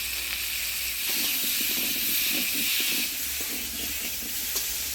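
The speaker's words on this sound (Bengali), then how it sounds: "হলুদ লবণ দিয়ে সিদ্ধ করে আলুটা নাড়াচাড়া করে নিলাম" Boiled potatoes with turmeric and salt are stirred in a pan with onions and whole cumin, making a steady soft sizzle and hiss with light scraping throughout, close and fairly quiet.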